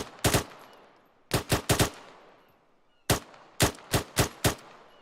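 Rapid rifle shots fired at a target in Arma 3 during arctic training, sharp loud cracks in two clusters, one then three, a pause, then five more, each with a short echoing tail.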